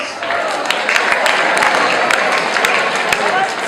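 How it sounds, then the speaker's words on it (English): An audience in a hall at a school hypnosis show claps together, a dense, sustained round of applause with a few sharper claps standing out and some voices mixed in. "Give yourselves a big round of applause"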